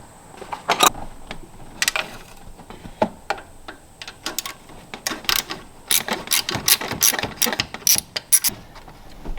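A ratchet wrench undoes an 8mm bolt on a Ford Ranger turbo actuator. Bursts of sharp clicking come close up with short pauses between pulls.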